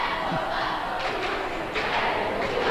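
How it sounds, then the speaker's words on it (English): Crowd noise and cheering from school cheering squads fill a basketball gym at a boys' quarter-final game, a steady roar with louder bursts of shouting and thuds throughout. "Both cheering squads are doing all the cheering."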